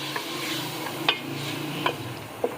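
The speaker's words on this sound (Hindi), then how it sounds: "अब इसके अंदर हम ये चिकन डाल लेंगे। हल्की आंच पे इसको 1 से 2 मिनट के लिए फ्राई करेंगे।" Chicken pieces fry in hot oil over a low flame for a yakhni, a moderate, steady sizzle broken by three or four light clicks of a spoon stirring the pan.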